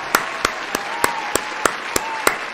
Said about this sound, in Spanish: Vamos a darle su aplauso.